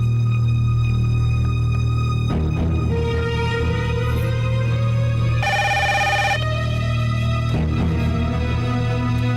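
A telephone rings indoors in a Bengali TV serial scene. A steady, bright electronic ringtone repeats continuously for about nine seconds, loud and clear, with no talking over it.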